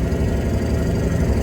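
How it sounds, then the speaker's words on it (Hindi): A vehicle engine idles steadily just after starting, a continuous low rumble with slight vibration, close and moderately loud, with no talking. "इंजन स्टार्ट हो गया"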